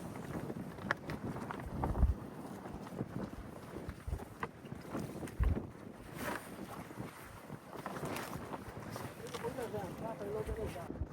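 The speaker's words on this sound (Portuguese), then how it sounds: "E agora levantaram a vela. Finalmente vamos ser guiados pelo vento." A sailboat on the open sea with its sail raised, heard as steady wind buffeting and rushing water around the hull, with occasional thumps and people talking over it.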